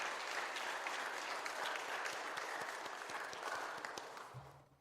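A church congregation claps steadily, a dense spread of applause that holds for several seconds and then tapers off toward the end.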